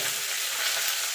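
Chopped vegetables sizzle steadily in hot oil with panch phoron for a vegetarian Bengali chorchori. The frying is close and continuous, with no one talking.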